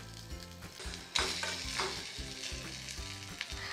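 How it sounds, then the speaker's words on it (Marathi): Ripe mango pieces go into masala frying in a pan, bringing a steady close sizzle with a sharper burst as they land and soft stirring scrapes after. "आता ह्यामध्ये मी आंबे घालते,"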